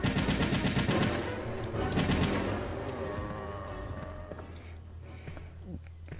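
Rapid gunfire bursts from guns in the video game Resident Evil 3, loud and dense at the start, then easing into quieter scattered shots over a low rumble.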